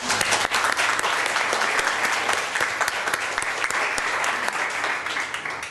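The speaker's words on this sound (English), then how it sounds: "let's have a round of applause." Steady, dense applause from an audience filling a Glendale city council meeting chamber, sustained at even loudness for several seconds before easing slightly at the end, with no talk over it.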